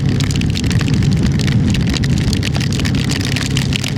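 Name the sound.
rain and hail falling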